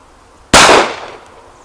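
A single sharp report from a CZ P-09 Duty 9mm handgun fired at a range, loud and close with an abrupt onset and a short decaying tail, with no talk over it.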